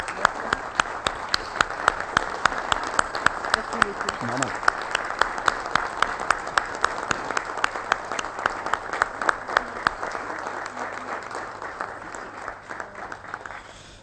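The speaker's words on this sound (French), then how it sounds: "j'aurais souhaité qu'on l'applaudisse et qu'on la remercie." Applause fills a municipal council chamber, many hands clapping steadily for over ten seconds before tapering off, with a brief spoken word heard among the clapping.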